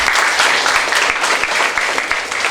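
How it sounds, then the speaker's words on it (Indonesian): Loud, dense applause from a student council audience at a national defense training event in a Lamongan junior high school, many hands clapping continuously throughout the short stretch. "Tepuk tangan dulu."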